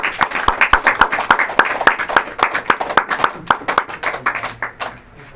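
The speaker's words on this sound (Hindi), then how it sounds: "जोरदार ताली बजाइए।" A church congregation claps loudly in a sermon, many hands striking together in a fast, strong, roughly rhythmic pattern of sharp bursts that taper off near the end.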